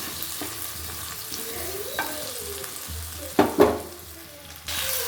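Drumstick pods fry in a pan, giving a steady sizzle broken by a few stirring clinks and louder spattering bursts near the end.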